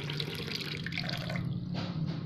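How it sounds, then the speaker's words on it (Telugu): Water poured into a glass holding stones, a steady close trickle and splash lasting the whole moment with no talk. "దీంట్లో వచ్చి కొంచెం గ్లాస్ నిండా నీళ్లు పోస్తాను"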